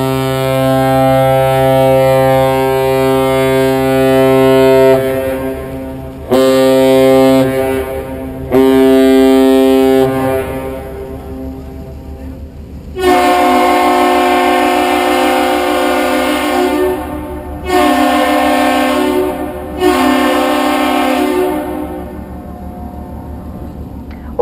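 The lake freighter Lee A Tregurtha blows loud, deep horn blasts in salute while departing Duluth, and the aerial lift bridge answers with its own horn. The long blasts and shorter ones alternate clearly in an outdoor harbour setting.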